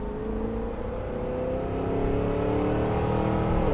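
A 2023 Cadillac Escalade V with its exhaust set to stealth mode revs up in a steady, rising engine drone without crackles, close and fairly loud, with no talking.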